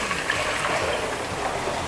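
Water gushes steadily into a cooking pot for rice in a home kitchen, a continuous close pouring rush with no talk.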